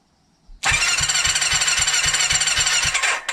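Kawasaki Zephyr 750 motorcycle engine cranking on the starter during a compression test, a loud steady whirring drone with a regular chugging pulse of compression strokes, running about two and a half seconds then cutting off.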